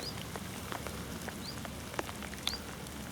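Light rain patters softly beside the River Swale, a faint steady hiss with scattered drips and a couple of brief high bird chirps.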